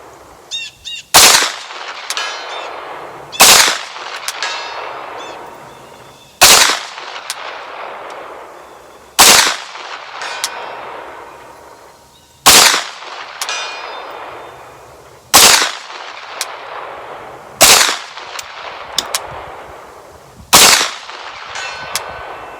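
Sharp single gunshots from a PTR 9KT, a clone of the H&K MP5K, fired at a target 200 yards away. Eight loud cracks come at a steady pace a few seconds apart, each followed by a ringing tail and a fading echo.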